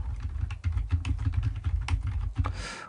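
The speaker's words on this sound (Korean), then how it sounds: "클릭 한번 하고 컨트롤 A 눌러서" Keys clatter on a computer keyboard in quick, close taps, with a mouse click and a Ctrl+A press among them, then a brief hiss at the end; no one speaks.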